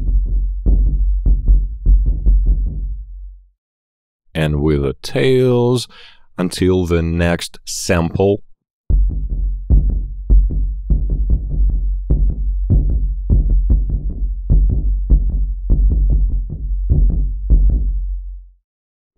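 Loose, ringing tribal punk folk drum samples repeat in a steady groove, each decaying with a short tail until the next sample; a voice briefly speaks in the middle, interrupting the beat.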